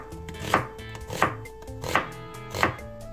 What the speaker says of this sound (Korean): 양파 반 개를 썰어주셔요.